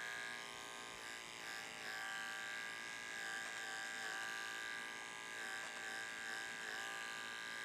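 An electric hair clipper buzzes steadily while cutting a man's short hair, a continuous close, bright whine with slight wavering in pitch as it moves through the hair, no talking.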